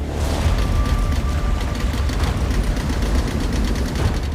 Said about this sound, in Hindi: इंजन की आवाज के अलावा कुछ सुनाई नहीं दे रहा था।